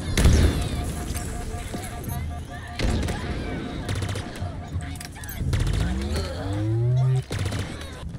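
Battle rifle gunfire in the video game Halo Infinite, bursts of shots and explosive impacts mixed with game effects, with a person talking over the action throughout.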